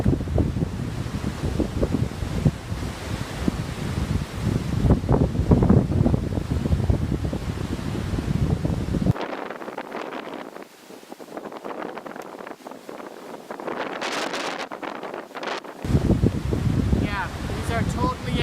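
Strong wind buffets the microphone outdoors during a beehive inspection, loud gusty roaring that drops away briefly and then returns, with a person talking.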